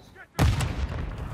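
Gunfire in the Call of Duty video game: a sudden loud boom-like shot after a short quiet moment, followed by a rumbling tail, heard fairly close.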